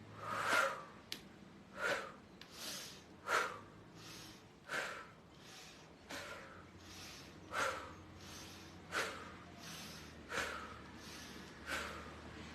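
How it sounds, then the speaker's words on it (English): Deep rhythmic breaths in and out during a gentle cleansing movement exercise, each breath a soft broadband whoosh repeating roughly every second or so in a steady pattern, close and fairly quiet over a low background hum. "you're going to breathe in, breathe out"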